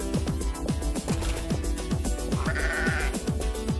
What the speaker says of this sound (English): Look at all these sheep he's got.